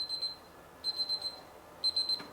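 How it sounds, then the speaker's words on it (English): A kitchen timer goes off in a home kitchen, sounding three short bursts of rapid high electronic beeps separated by pauses, fairly faint and alone. "Of course, shut the timer off."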